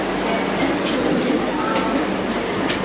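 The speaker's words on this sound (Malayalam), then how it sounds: "അപ്പോൾ നമ്മളിത് വന്ദേ ഭാരതിനകത്താണ്." Inside a moving Vande Bharat Express carriage, a loud constant rolling rumble and rushing hiss of the train fill the cabin throughout, with faint rhythmic wheel clicks and people talking nearby.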